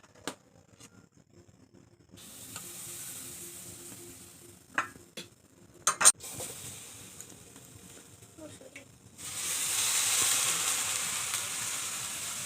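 Chitoi pitha batter, a Bengali rice cake, cooks in a pan without oil and gives a faint, steady sizzle. A few sharp clicks from handling the pan break in, then the hiss swells louder toward the end, with no speech over it.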